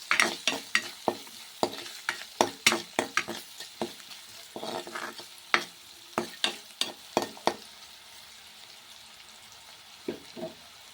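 Batani and aloo kurma is stirred with salt and turmeric in a frying pan, with repeated sharp scraping and knocking strokes of a spoon over a low sizzle, close and steady, with no speech.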